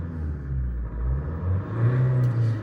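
A 2018 Maruti S-Cross diesel car accelerates, its engine rumble heard close from inside the cabin, swelling and rising in pitch over a few seconds with a steady low drone.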